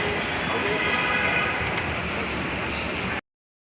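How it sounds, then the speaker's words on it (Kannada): Rumbling train noise at Yeshwantpur railway station, a steady broadband roar of rolling wagons and station bustle that holds constant and then cuts off abruptly. "ನೋಡ್ರಿ ಯಶವಂತಪುರ ರೈಲ್ವೆ ಸ್ಟೇಷನ್"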